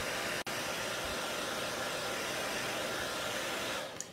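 A handheld heat tool blows steadily over chalk paste on a beaded chalkboard tag, a constant close whooshing hum with a brief cut near the start, shutting off at the end.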